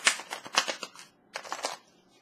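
Tarot cards are shuffled in two quick bursts of soft riffling and slapping, close and faint, with a short pause between them.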